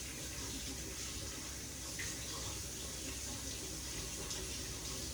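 Hot water runs steadily from a kitchen tap in a home, a constant broadband hiss and splash that continues unbroken throughout at moderate, close range.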